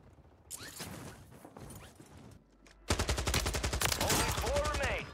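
Warzone gunfire on Rebirth Island with a Draco, a rapid close burst of loud automatic shots after a few sparse earlier shots and mechanical clicks, with a voice briefly in the background.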